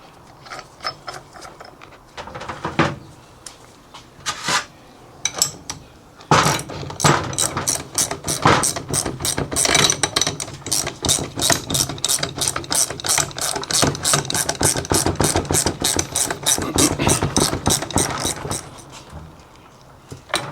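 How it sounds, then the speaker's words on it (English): Ratchet wrench clicking rapidly while running a new nut onto the front shock of a 2013 BMW E70 X5, bursts of sharp close clicks building into a long steady ratcheting run. "And then I have a new nut that I'm going to install as well."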